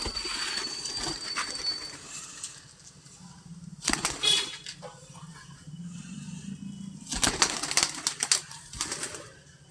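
Pet pigeons released from their loft, with bursts of wing flapping and clattering takeoffs in a few loud clusters, separated by quieter stretches of soft ambient noise.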